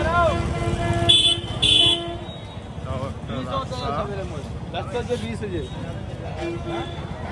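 Busy street traffic in Ayodhya, with passing cars and motorcycles and a couple of short horn toots near the start, while people talk close by throughout.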